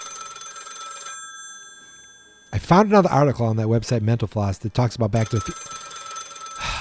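A telephone bell rings loudly in a sustained electronic trill, then stops while someone talks over the break, and the ringing resumes afterward.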